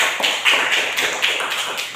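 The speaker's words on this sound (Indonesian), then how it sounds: "ini tepuk tangan untuk teman kita" A class of students claps for a classmate, a dense, steady patter of many hands filling a classroom at close range, with no voices over it.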